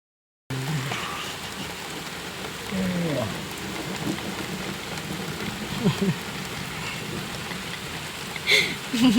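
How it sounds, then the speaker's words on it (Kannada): Heavy rain falls steadily on a surface during a fishing trip, with low rumbles of thunder and a few louder bumps, while people talk intermittently. "ಮಳೆ ಬರ್ತೈತೆ"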